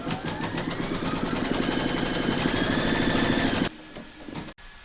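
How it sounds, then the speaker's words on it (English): A home embroidery machine stitching an in-the-hoop snowflake outline on fabric, a loud rapid mechanical rattle of the needle running continuously for several seconds before cutting off, followed by a quiet pause and a brief click. "Pop your hoop into your machine and stitch round number 3 to secure it"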